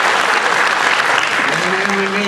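A Marathi audience at a book publication event breaks into loud, sustained applause, a thick wash of clapping that fills the room, with a voice starting to speak over it near the end.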